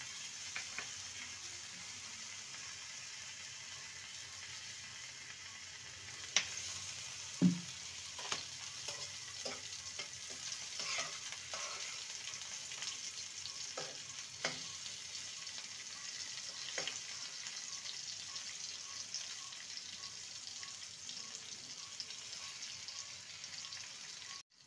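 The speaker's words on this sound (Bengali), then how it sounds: "টমেটোটাকে কেটে রেখেছিলাম সেটাকে সামান্য ভেজে নেব" A tomato, a whole dried chilli, two green chillies and a few garlic cloves fry in a pan with a steady soft sizzle, broken by occasional clinks and stirring taps from a utensil.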